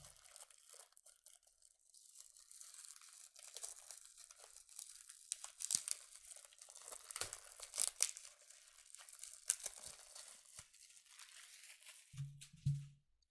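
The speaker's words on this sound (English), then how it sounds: "I'm gonna go ahead and remove that plastic." Plastic wrapping being pulled off an MXL 144 microphone crinkles and tears in close, quiet rustling bursts, with a few brief sharper crackles.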